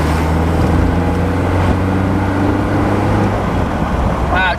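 A 1962 Mercedes-Benz 190SL Roadster drives along, its engine a loud, steady drone close by with a brief change in pitch as it shifts gears.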